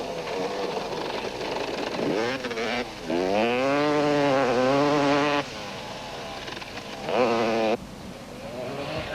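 KTM motorcycle in the 1991 Thaba Nchu 500 off-road race, ridden with the throttle wide open; the engine whines loudly, its pitch climbing and falling through gear changes as the bike passes close by.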